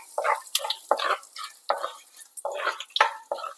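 Fenugreek seeds frying in oil after mustard seeds have spluttered: a series of about a dozen sharp, irregular pops and crackles, close and fairly loud, with quiet gaps between them and no speech.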